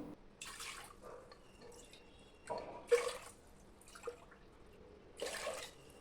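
Water splashes and trickles into a metal pressure cooker in several short bursts, fairly quiet, with brief pauses between pours.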